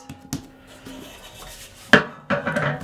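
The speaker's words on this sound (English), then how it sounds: "I am just going to knead it." Bread roll dough kneaded by hand on a work surface, giving soft dull thumps and rubbing presses, a couple of heavier pushes near the end, close and fairly quiet, no talking.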